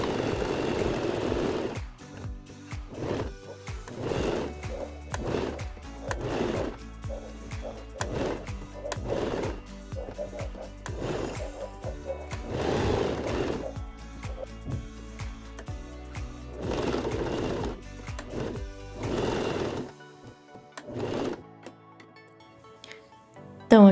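Sewing machine stitching a seam on the wrong side of fabric for a small kawaii stuffed animal's ears and nose, running in repeated short bursts with brief pauses between, close and alone.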